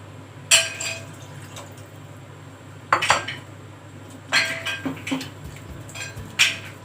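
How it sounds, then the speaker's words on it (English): A spoon stirs macaroni in a thick bechamel sauce in a metal pot, giving irregular scraping clinks and knocks against the pot over a soft, steady background hum. "You will stir it until it will become little sticky."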